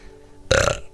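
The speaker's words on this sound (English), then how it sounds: "Whoa, that was a big burp, guys." A single loud, close burp, short and throaty, rises abruptly after quiet room tone.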